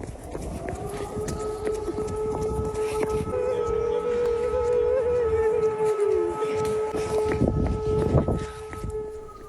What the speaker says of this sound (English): one photographer is using the platform to turn the sound of sirens into art.